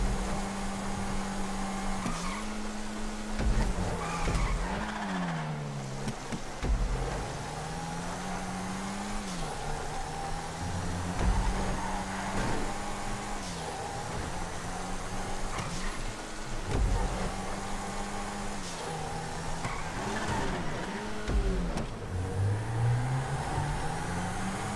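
Racing cars in GTA V roar continuously through a live online race on the LSGP Rhapsody track, engines revving and shifting pitch with gear changes and braking, loud and sustained throughout.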